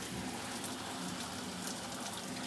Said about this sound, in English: How the rain is coming.